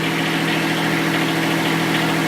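A tractor engine idles steadily and loudly up close, a constant low droning hum with no pauses.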